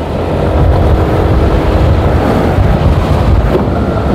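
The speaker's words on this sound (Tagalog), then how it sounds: "So napakalakas ng hangin." Strong wind roaring across the microphone during an outdoor road cycling race, a loud continuous buffeting rush that fills the whole stretch with no voices.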